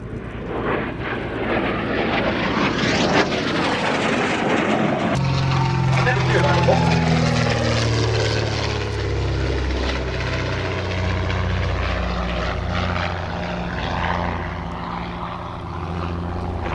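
A Canadair Sabre jet fighter's Avro Canada Orenda engine roars loudly as it passes close at an air show, its pitch sweeping and shifting while the rumble fills the whole stretch.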